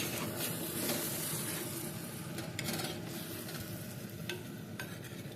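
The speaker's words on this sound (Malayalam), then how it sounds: "ചെമ്മീൻ റോസ്റ്റ് കുറച്ച് നേരം ആ ഒരു എണ്ണയിലും മസാലയിലും എല്ലാത്തിലും കൂടെ കിടന്ന് അത് നല്ലവണ്ണം റോസ്റ്റ് ആവട്ടെ" Chemmeen roast, shrimp cooking in oil and masala in a pan, gives a steady soft sizzle with occasional stirring scrapes. The sound is continuous, close and fairly quiet, with no voices.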